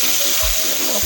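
Native chicken pieces frying in a pan, a steady broadband sizzle with faint crackle throughout, close and fairly loud, with no talking.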